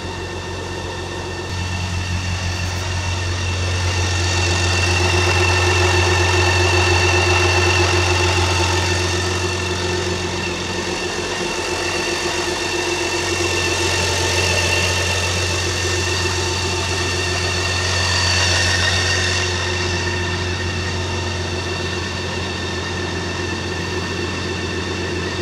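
A BMW K 1600 GT six-cylinder motorcycle engine idles steadily and close by after a cold start, a low even hum with a faint mechanical ticking that barely changes throughout.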